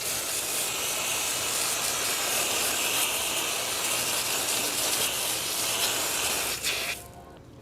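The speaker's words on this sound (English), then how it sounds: "I'm gonna go ahead and rinse it off with our nozzle right here real quick" A garden hose nozzle sprays water to rinse a motorcycle that has sat garaged for months, a loud steady hiss of spray running continuously up close before cutting off near the end.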